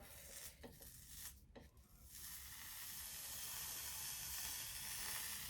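A hot hair straightener presses down on hair sprayed with straightening product, hissing and sizzling steadily and building to a continuous steamy hiss after a few short bursts, close and fairly quiet with no talking.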